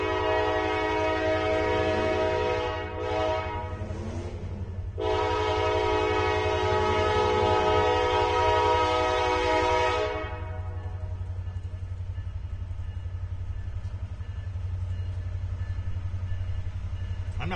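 A freight train's horn blows a long, loud chord close by, broken by a brief pause around three seconds, then cuts off at ten seconds, leaving the steady low rumble of the locomotive as it starts to pull.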